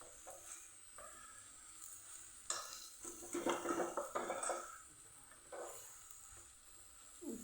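A spoon stirs and scrapes grated sweet potato for shiro roasting in melted ghee in a pan, soft metallic clinks and scrapes in bursts over a faint, low sizzle, with no one speaking.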